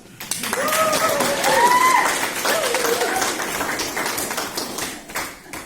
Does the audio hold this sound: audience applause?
yes